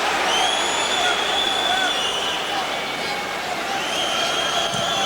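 Home supporters at a Borussia Dortmund Champions League match against Liverpool create a steady, loud stadium roar with rising cheers and whistles, continuous throughout.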